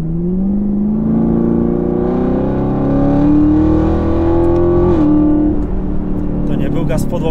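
Chevrolet Camaro ZL1 with 650 hp accelerating in track mode with traction control off, a loud continuous engine note rising steadily in pitch before easing off near the end, heard close from inside the car.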